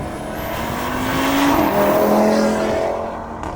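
The engine of an Audi RS3 8V pre-facelift hatchback swells loudly as it passes close by, its note rising and then fading away, heard alone.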